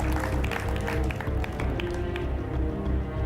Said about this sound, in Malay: Beri tepukan untuk peserta pentas akhir Kori Junior.